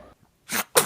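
A person sneezing twice in quick succession: two short, breathy bursts close to the microphone, the second one sharper and louder, with no talking.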